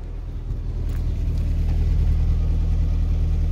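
A classic Mini's engine idles steadily and close by, a continuous low mechanical rumble with an even throb that holds constant for several seconds, with no one talking over it.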